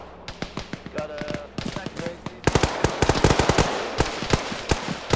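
Heavy weapon fire in a war video game, rapid machine-gun-like bursts of loud cracks that grow denser and louder partway through, with faint voice chatter underneath.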